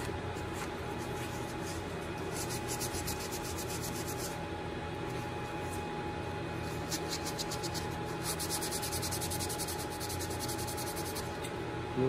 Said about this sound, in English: also want to scuff in here. Since I want the finish to stick to all surfaces,